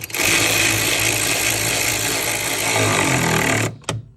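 A power tool tightens the last upper bolt on the airbox of a 2017 Ford Explorer Interceptor, a steady loud buzzing whine running for several seconds before cutting off, followed by a short clunk.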